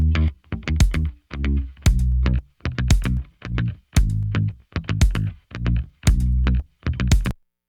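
A soloed, heavily processed mix element that pulses in short rhythmic bursts, each chunk dipping as a kick would enter, with gritty distorted chorused tones repeating in a steady pattern.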